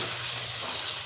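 Mutton sautéing in oil for a Bengali mutton curry, a dense, even sizzle filling the whole brief moment, close and steady, no voices.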